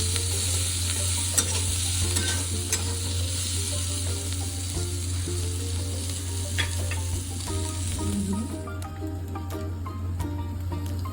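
Catla fish frying in a pan, a loud, constant close-up sizzle with occasional crackles and spatters throughout.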